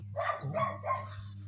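A dog gives a few short barks and yips in quick succession at moderate distance over a steady low hum, with no talking.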